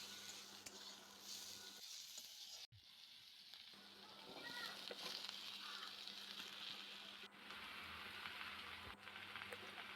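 Pumpkin pieces frying in katla fish oil in a pan, a steady soft sizzle with occasional stirring scrapes and clinks throughout, quiet and close.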